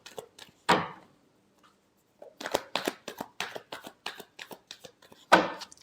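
Tarot cards shuffle by hand in quick riffling bursts and soft slaps, close and crisp, with a pause in the middle before a longer run of rapid flicks.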